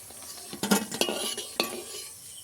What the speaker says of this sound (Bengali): এই যে পকোড়াগুলো লাল লাল করে ভেজে নিয়েছি